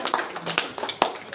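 A small audience at an achievers' celebration claps, with scattered, uneven hand claps close by, fairly quiet and brief.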